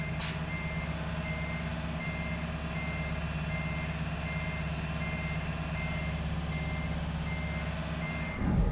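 Truck in American Truck Simulator backing up, its reversing alarm beeping in a steady repeated rhythm over a constant low engine rumble, with a short hiss near the end.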